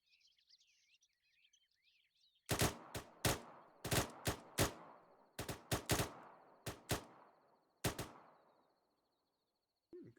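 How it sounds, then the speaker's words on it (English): Rapid rifle fire from the prone position at 200 meters on an army training range: about a dozen sharp, loud cracks in quick irregular bursts with short decaying echoes, birds faintly chirping before the shooting starts. "In the prone position, at a range of 200 meters, you will fire 5 rounds, rapid."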